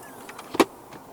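A 2025 Audi Q7 3.0 TFSI quattro S line third-row seat folds forward, with faint mechanical clicks followed by one short, solid thunk at close range, then quiet cabin.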